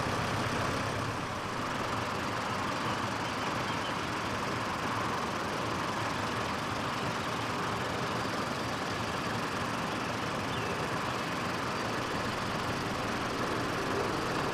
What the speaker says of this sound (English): Now the tractor is moved up and the plough positioned at the start of the actual plot.